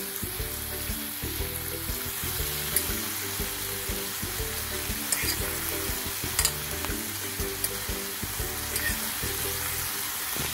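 Spaghetti fries for chow mein in a hot pan, with a loud, continuous sizzle and repeated stirring scrapes and clatters close by, and no voices.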